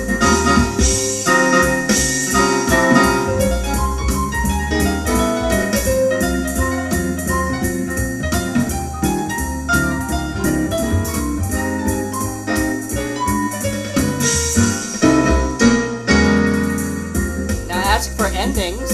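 A General Music WK-4plus keyboard plays its fourth intro variation, a full, dense band-style arrangement that stays loud and steady from start to finish with no break.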